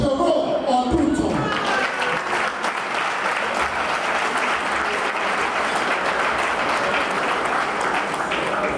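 An audience at a St. Vilma's College gathering breaks into loud, sustained applause, continuous and full from start to finish as a Monsignor is welcomed to the microphone.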